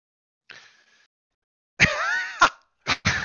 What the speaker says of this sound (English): I'm trying not to make you cough anymore than you already are.